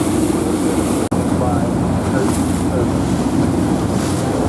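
A loud, continuous roar of a racing powerboat engine on rough water during the Cowes Torquay Cowes race, mixed with wind and rushing water, with one brief dropout near the start.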